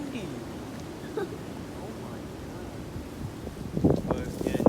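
Wind buffets a microphone outdoors in low rumbling gusts, with brief voice sounds near the end.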